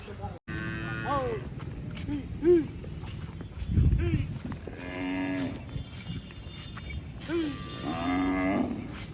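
Several Kankrej cows moo at close range while grazing, long low calls rising and falling in turn, with a few overlapping, against faint rustling background noise.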